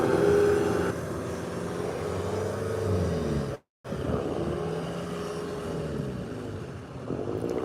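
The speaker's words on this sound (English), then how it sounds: "They have to take so many boats out in a day and be noisy" Motorboats crowd a river at Potter Heigham under grey skies, engines droning steadily and overlapping as the boats pass nearby, with a brief cut to silence midway before the continuous motor noise resumes.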